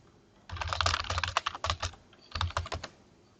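Quick keystrokes on a computer keyboard as a game code is typed in, coming in two close, clicky bursts separated by a short pause.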